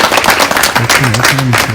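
An audience at a virtual Pongal celebration claps for a participant, a dense, steady patter of hand claps that mixes with voices throughout.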